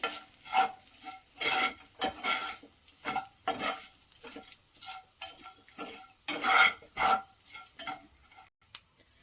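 A spoon scrapes and stirs palak dal in a pan over a low flame in a steady rhythm of soft strokes, with faint sizzling underneath.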